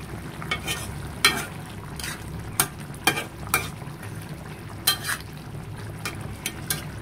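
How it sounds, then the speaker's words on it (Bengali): Hilsa fish curry bubbling in a covered pan, a steady soft simmering hiss broken by irregular sharp pops and crackles, close and moderately quiet. "যেহেতু আমি এখানে তরকারি ঢেকে দিয়েছি, তো খুব তাড়াতাড়ি বলক চলে আসছে।"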